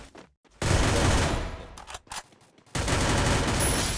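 MP5 submachine gun fire in a video game, rattling in two loud sustained full-auto bursts separated by short pauses and a few single shots.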